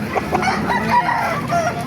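A rooster crows nearby, with clucking chickens and faint background chatter around it.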